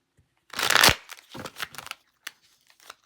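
Hands shuffle a tarot card deck, giving a loud riffling burst followed by a few shorter, softer shuffles and scattered card taps, with no voices.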